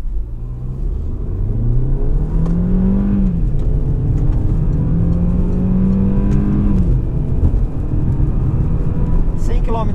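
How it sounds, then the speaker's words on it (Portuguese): A Peugeot 408 Business Pro accelerates at full throttle from 0 to 100 km/h, its engine note climbing through rising gear pulls with brief drops at each shift, loud and close from inside the cabin. "Vamos lá, aceleração total de 0 a 100."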